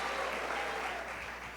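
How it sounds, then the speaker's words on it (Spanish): A church congregation applauds together, a dense, steady wash of clapping from many hands that fills the room for a moment and eases slightly toward the end. "Dale ese aplauso a Dios"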